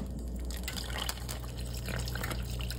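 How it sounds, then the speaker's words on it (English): Water is poured into country gravy in a pan, a continuous splashing, trickling liquid sound close by, moderately quiet and uninterrupted by talk. "Add a little bit more water."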